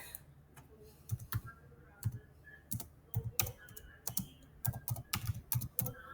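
Keys clatter on a computer keyboard as text is typed, in short irregular bursts of quick clicks separated by brief pauses, close and clear with no talk.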